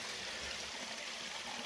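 Spring water runs through a worn cast iron pipe laid some 45 to 50 years ago, a faint, even trickling rush that carries on without a break.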